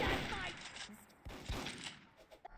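Gunfire in the video game Micro Volts Recharged: a dense burst of rapid in-game shots with sharp cracks and mechanical clatter, fairly loud at first and thinning into scattered shots.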